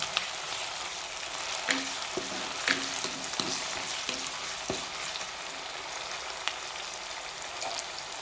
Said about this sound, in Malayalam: ഉള്ളിയും പച്ചമുളകും എല്ലാം ഇട്ട് കൊടുത്തു. അത് നമുക്കിങ്ങനെ ഇളക്കി കൊടുക്കാം.